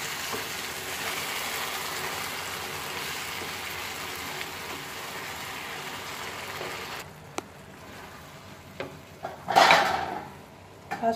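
Spices and chili sizzle in hot oil for pickled mango, a steady dense crackling hiss for most of the span, then dropping quieter with a few sharp pops and a brief louder burst of frying near the end.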